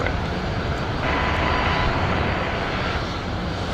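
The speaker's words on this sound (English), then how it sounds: "nice prop flow there on the Dash 8 Q400 heading off runway 19 left" A Dash 8 Q400 turboprop roars down runway 19 left at Brisbane Airport on takeoff, a steady loud engine and propeller drone heard from a moderate distance.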